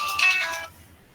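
A phone ringtone sounds during a physics lecture on crystal lattices and X-ray reflections, a short bright electronic tone lasting about half a second, then cut off abruptly into quiet.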